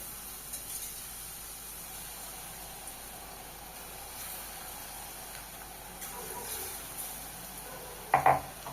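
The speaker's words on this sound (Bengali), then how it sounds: "কড়াইয়ে তেল গরম হয়ে গেছে, ব্যাটারটা দিয়ে দেবো, বেসনের ব্যাটারটা এইভাবে।" Gram flour batter poured into hot oil in a wok while making motichoor laddu gives a faint, steady sizzling hiss, with a brief sharp crackling burst near the end.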